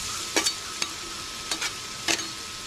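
Kielbasa, cabbage and shrimp fry on a flat top griddle, a soft steady sizzle broken by four or five short scraping strokes of a spatula as the food is mixed.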